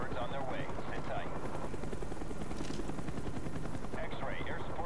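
Military helicopter from Call of Duty: Black Ops, a steady rotor drone filling the scene with dense battle noise and scattered gunfire, plus brief background voices and radio chatter.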